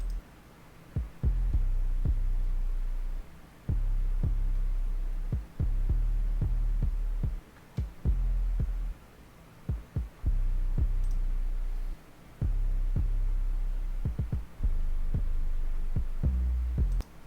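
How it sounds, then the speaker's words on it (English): Deep 808 bass and kick drum from a dark witch house beat thump in a steady, irregular pattern of quiet low hits with short gaps, alone and without voices. "Here's what the kick and the 808 sound like together."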